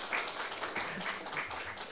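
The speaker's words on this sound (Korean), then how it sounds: "우리 이승희 권사님께 박수 한번 주셨으면 좋겠습니다" A church congregation at a Sunday worship service applauds, giving a short, steady, moderately distant round of clapping with faint voices beneath it.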